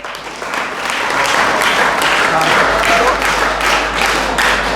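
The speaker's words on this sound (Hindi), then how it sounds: "एक बार तालियां तेजी से" An audience in a school quiz show modeled on KBC breaks into steady, loud applause for a contestant's correct answer, dense clapping that swells and holds for several seconds with no talk over it.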